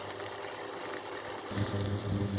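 Chopped onion frying in a pan, a steady dense sizzle with a fuller, louder crackle rising about halfway through, no voices.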